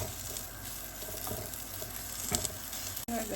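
Chili sizzling in hot oil during a stir-fry for chilli with eggs, a steady faint crackle with a few scraping stirs and clinks, no talking over it.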